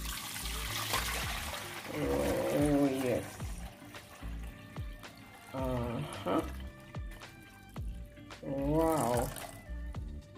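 Homemade Jamaican sorrel and beetroot drink pours off in a steady trickling stream over about ten seconds, with a voice exclaiming briefly over the liquid sound.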